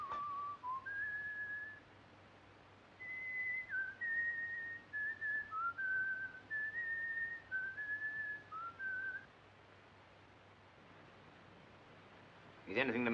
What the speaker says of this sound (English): That tune you are whistling, sir, it is an English tune, isn't it?